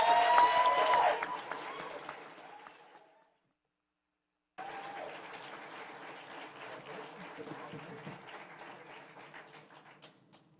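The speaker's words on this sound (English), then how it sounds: "let's give another round of applause to the newly sworn-in council members" An audience at a city council swearing-in ceremony claps for the newly sworn-in members. The applause is fairly loud at first and fades, then after a short silence a quieter, sparser patter of clapping follows.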